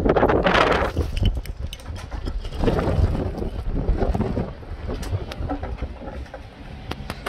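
Strong wind buffets the microphone during a fishing trip for flounder, roaring in gusts with rumbling low noise and occasional clatter, while someone speaks intermittently.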